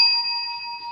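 A bell chime signals a correct trivia answer: a single clean ring that starts sharply and sustains evenly while slowly fading, heard alone without talk.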